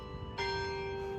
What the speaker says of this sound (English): as Denny Chimes rings